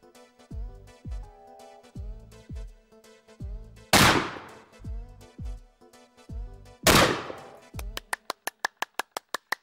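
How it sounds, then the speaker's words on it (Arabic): Gunfire rings out in a comedic Syrian TV drama: scattered loud bangs, some with long ringing decays. Sharper echoing blasts stand out among them, and the scene ends in a rapid burst of evenly spaced shots. "سمعت صوت إطلاق النار؟"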